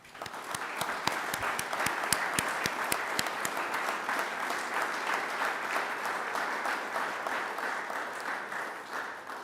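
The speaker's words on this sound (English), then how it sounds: "please give him a round of applause." An audience at a Veterans Day breakfast applauds steadily, dense clapping holding at an even level throughout, with a few sharper individual claps standing out near the start.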